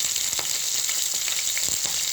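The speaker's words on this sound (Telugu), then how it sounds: "ఇదిగో ఉల్లిపాయలు వేసాను" Sliced onions fry in a pan with dried red chillies and curry leaves, giving a steady bright crackling sizzle with a few sharper pops, close and continuous, with no one talking.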